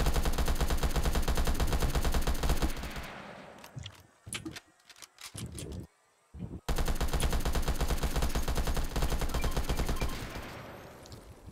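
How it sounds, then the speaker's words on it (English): Sustained automatic gunfire in a video game, long loud rapid bursts at close range, broken midway by scattered single shots and a short silence, then another long burst that fades out. "you don't want to be in the area I'm shooting at right now"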